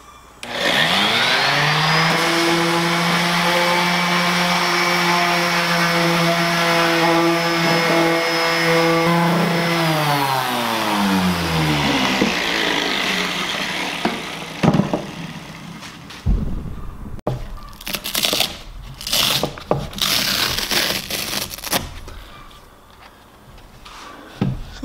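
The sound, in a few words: power sanding a board with red resin sandpaper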